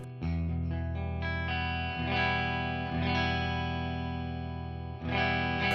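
An LTD EC 401 electric guitar on its middle pickup setting rings out sustained, effected chords played through an amp, with a chord change about every second and long, smooth sustain between strums.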